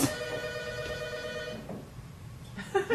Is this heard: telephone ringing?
yes